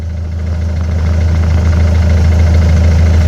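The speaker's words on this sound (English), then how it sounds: "You gotta love a Mondeo with a straight pipe." A Ford Mondeo engine idles loudly with a deep, raspy rumble from a missing exhaust, holding steady and close throughout without any talking.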